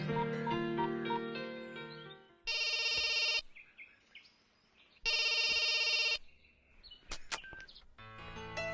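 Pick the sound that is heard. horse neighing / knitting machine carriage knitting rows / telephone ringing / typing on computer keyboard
telephone ringing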